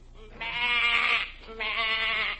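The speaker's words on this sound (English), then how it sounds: "I noticed a row of cattle ships all loaded with sheep." Two long, loud bleats from a sheep close by, separated by a short pause, with nothing else heard.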